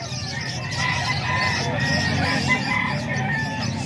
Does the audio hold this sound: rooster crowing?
yes